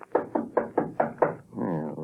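Six evenly spaced knocks on a back door in an old radio drama, firm and close, followed by a brief murmur of voices.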